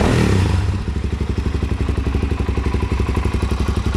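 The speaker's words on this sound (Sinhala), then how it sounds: "බයික් එක පොඩ්ඩක් ස්ටාර්ට් කරලා පෙන්වමු" A Suzuki DRZ-400SM motorcycle engine catches and settles into a steady, thumping single-cylinder idle with rapid even pulses, loud and close with no talk.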